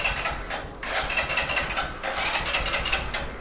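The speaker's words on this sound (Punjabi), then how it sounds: "ਹੁਣ ਵੇਖੋ ਸਲਫ ਲੈ ਰਿਹਾ ਮੋਟਰਸਾਈਕਲ ਚਾਬੀ ਕੱਢੀ ਤੋਂ ਹੀ ਸਲਫ ਲੈ ਰਿਹਾ" A motorcycle's self-starter, triggered by a remote start device, cranks and brings the engine to a steady, close idle, with a brief break early on before the running engine hum continues.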